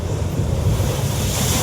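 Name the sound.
sea waves crashing onto coastal road in Arattupuzha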